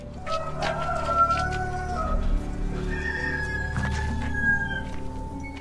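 A rooster crows with long wavering calls, fairly close and moderately loud, amid other fowl sounds and a steady background, with no talking.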